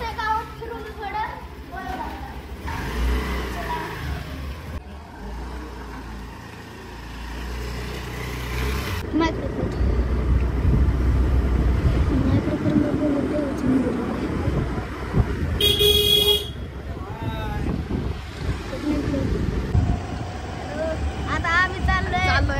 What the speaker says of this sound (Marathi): आता दादा गाडी काढतोय